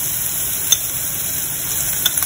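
Chopped onion sizzles in a hot pan with a constant close hiss and a couple of soft pops.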